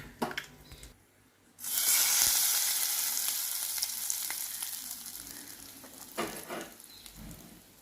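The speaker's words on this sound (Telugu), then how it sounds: "కొంచెం కరివేపాకు, తాలింపు వేగిందండి." Curry leaves tempering in hot oil for a coconut tomato chutney give a loud, steady sizzle that bursts in after a short quiet start and slowly fades, with a brief crackling flare near the end.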